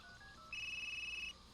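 Phone calling tone in a video game, a short electronic tone then a sustained warbling ring lasting under a second, quiet and alone.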